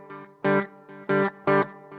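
Distorted electric guitar notes repeating through a digital delay pedal with hall reverb, a lingering reverberant tail filling the gaps between louder attacks.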